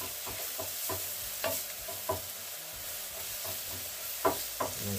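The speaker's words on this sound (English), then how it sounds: "and I'll keep stirring. You can see my onions have actually started turning golden brown." Onions frying in a pan as they turn golden brown, a soft continuous sizzle broken by repeated scraping stirs of a spatula, fairly quiet and close.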